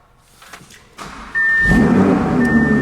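Cold first startup of an Audi R8 V10 Plus: quiet shuffling, then a starter catch and the engine flaring into a loud, steady high idle with a constant whine that carries on to the end.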